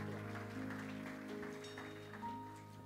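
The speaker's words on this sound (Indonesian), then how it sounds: "Sekali lagi kasih tepuk tangan kemuliaan bagi nama Tuhan." A church congregation claps together in a dense, steady patter of applause over a low hum of music. The clapping fades slightly toward the end.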